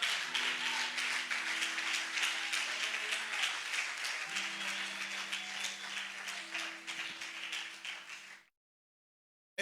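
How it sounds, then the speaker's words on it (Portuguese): Congregation in a church applauding Jesus, a steady dense patter of many hands lasting about eight seconds with faint sustained tones underneath, then cutting off abruptly into silence. "Você pode aplaudir a Jesus?"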